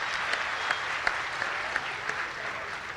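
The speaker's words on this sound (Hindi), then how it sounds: "मैं चाहती हूँ एक बार उनके लिए तालियों का महोत्सव होना चाहिए।" Audience clapping at a Hindi comedy poetry gathering, a dense steady patter of many hands with a few sharper individual claps standing out, continuous and fairly close.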